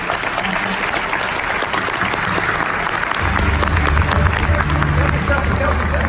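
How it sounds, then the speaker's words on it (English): Audience applause for a panel at the Microsoft Inspire event in Las Vegas, a steady wash of many clapping hands with crowd murmur, joined partway through by a low rumbling hum. "I want to ask you a round of applause to our panel."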